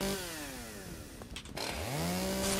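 A chainsaw cuts trees in the survival game Once Human, its engine buzzing loudly and close, dipping briefly before revving back up to a high, sustained whine.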